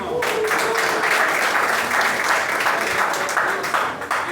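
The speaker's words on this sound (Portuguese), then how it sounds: "Vamos aplaudir." Applause from a church congregation, sustained crowded clapping at steady loudness with faint voices underneath, tapering slightly near the end.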